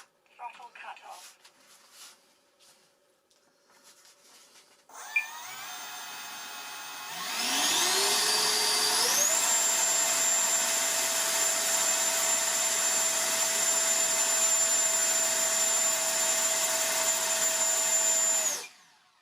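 An Arrows 50mm Hawk electric ducted fan on a 3S battery spools up to full throttle. Its loud, high whine climbs in pitch, then holds steady and piercing for about ten seconds before cutting off abruptly.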